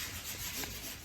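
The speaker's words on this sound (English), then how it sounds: "we are going to demonstrate sanding now with the machine" Power sander working a wooden cabinet panel with the grain, a steady close abrasive rubbing hiss that runs evenly through the whole moment with no voices.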